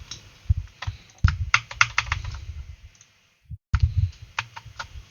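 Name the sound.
typing keyboard shortcuts on a computer keyboard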